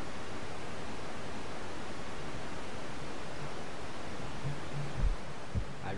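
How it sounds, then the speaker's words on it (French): Steady hiss of white noise filling an otherwise silent room in the game God's Basement, constant and fairly loud, with a couple of faint low thumps near the end. "Est-ce que tu peux l'entendre, le bruit blanc, le son du silence?"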